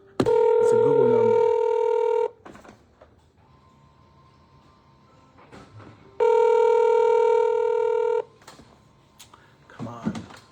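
Outgoing phone call ringback to a Google business number: two long electronic rings about four seconds apart, each a steady buzzing tone lasting about two seconds, with quiet line noise and faint voice between them.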